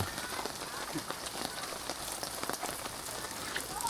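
Steady rain patters on a camping tent at a rainy-season family campsite in Thailand, a dense, close, continuous hiss of drops with no pauses.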